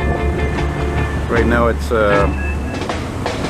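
A CN freight train rumbles past beneath a Montreal overpass in Ville St-Pierre, a steady low rolling drone with faint wheel clatter, while someone talks over it close by.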